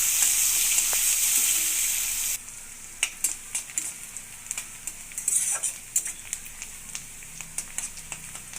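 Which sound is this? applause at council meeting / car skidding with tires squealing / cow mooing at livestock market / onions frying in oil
onions frying in oil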